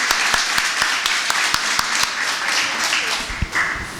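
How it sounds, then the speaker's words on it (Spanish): Crowd applause at a book launch, brisk, overlapping claps, steady and lively for a few seconds before tapering slightly at the end. "Un aplauso, por favor."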